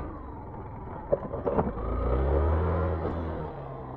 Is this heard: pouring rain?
no